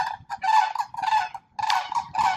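Goose-like fowl honking repeatedly in Florida, with loud, nasal calls arriving in several bursts separated by brief pauses, close by and with no voices over them.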